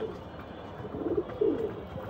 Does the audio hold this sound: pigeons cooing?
yes